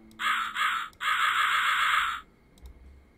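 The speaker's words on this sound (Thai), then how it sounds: "ไข่กาว่ะแล้วเราเคาะเป็นกาออกมา" A crow in the video game Rusty Lake Roots gives several loud, harsh caws in quick succession, clear and isolated, then a faint click as the sound stops.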